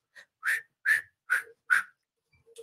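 A person whistles a high, shrill tone imitating a whistle, five short sharp blasts in an even rhythm followed by a couple of faint trailing notes, close and clear with no talk.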